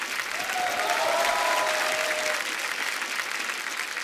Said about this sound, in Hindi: जोरदार तालियां करण सर के लिए